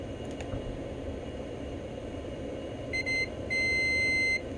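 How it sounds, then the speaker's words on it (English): A multimeter set to continuity gives two steady electronic beeps, a short one and then a longer sustained tone, over quiet workbench room noise during repair of a rat-chewed IntelliVision console's wiring. "Check it with a multimeter, make sure we have continuity."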